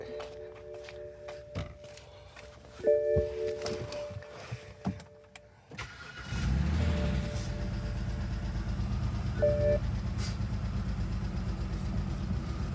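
After a few seconds of scattered clicks and clunks, a BMW 530 E61 wagon with a misfire cranks and catches about six seconds in, then settles into a steady, fairly loud idle hum.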